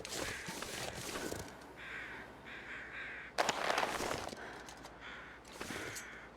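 Several crows caw in bursts in The Long Dark, first as a run of repeated calls and then as louder, closer outbursts over a steady outdoor wind bed, with no one talking.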